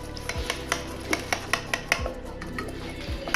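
A spoon stirring French toast batter in a bowl gives a regular series of light clinks and taps against the side, close and fairly quiet, with a few low thuds mixed in.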